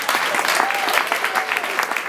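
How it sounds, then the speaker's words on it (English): An audience at a FinCon Ignite talk gives a brief burst of clapping, dense and steady throughout, with a little voice mixed in. "So everyone give her a round of applause."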